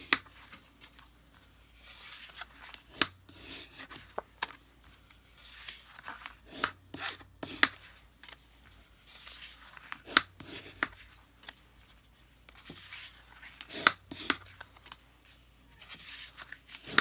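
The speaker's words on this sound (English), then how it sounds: "I guess it's burnishing the edge." A folded paper card's edge is burnished by hand, giving repeated soft rubbing and scraping strokes with occasional sharper taps, close and fairly quiet, continuing steadily throughout.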